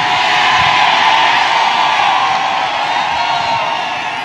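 A large crowd at a Trump rally in Pennsylvania cheers steadily, a dense, loud roar of voices with shouts and whoops that holds throughout and fades slightly toward the end.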